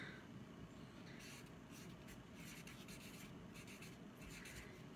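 A pen scratching out short strokes on a handmade Easter card, soft, close rasps in brief bursts over a constant hiss.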